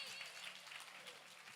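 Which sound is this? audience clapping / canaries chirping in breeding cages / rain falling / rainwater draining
audience clapping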